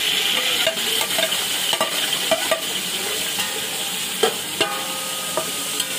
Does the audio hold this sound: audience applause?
no